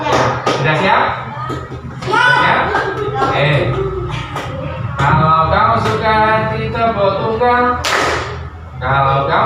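A classroom clapping game with single and double claps, sharp claps ringing out in rhythm among a group of children singing a chant in Indonesian.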